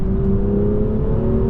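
A steady BMW engine with the Active Sound Designer on drones with a constant whirring tone, held at high revs without pause throughout.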